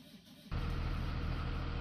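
A school bus engine in the Rigs of Rods driving simulator cranks and catches, a short quiet stretch giving way abruptly to a loud, steady low idle rumble that holds to the end.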